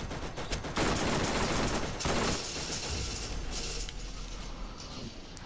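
Automated turret in the video game Borderlands firing rapid bursts of gunfire mixed with mechanical whirring and clanking, loud and close, with no talk.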